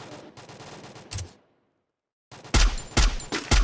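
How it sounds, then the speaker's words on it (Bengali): Video game gunfire: a rapid burst of automatic shots, a brief silence, then louder, closer bursts of shots crackling one after another. "এখানে ফায়ার দেওয়ার অনেক চেষ্টা করছি কিন্তু পরে না"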